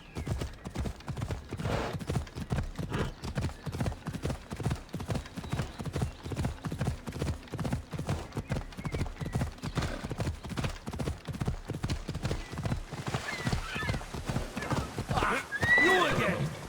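A horse gallops with rapid, steady clip-clop hoofbeats across the Assassin's Creed Odyssey landscape, ending in a loud neigh as talk begins underneath.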